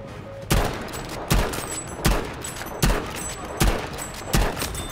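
Battlefield V gunfire: six sharp shots at roughly evenly spaced intervals, each a loud crack with a brief rumbling tail, firing close by.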